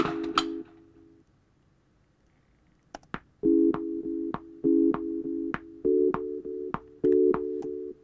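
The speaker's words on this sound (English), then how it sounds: "This is a sine wave. I compressed it. I added a delay. I added reverb." A compressed synthesized sine wave pulses in short repeated bursts with delay echoes and a reverberant tail, interspersed with sharp clicks.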